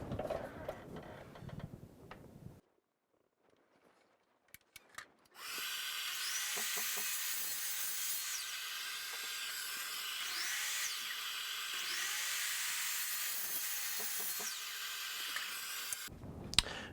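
A power saw whirs steadily through wood, cutting apron pieces for a raised dog bowl stand, for about ten seconds after a short quiet stretch, loud and close with a high-pitched buzzing tone.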